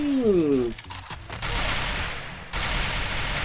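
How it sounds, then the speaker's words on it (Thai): Rapid gunfire in the Free Fire mobile battle game, bursts of dense crackling shots after a brief rising tonal effect, continuing loud and sustained with a short gap, no talking. "เดี๋ยวเราลองไปยิงกันดูนะทุกคน"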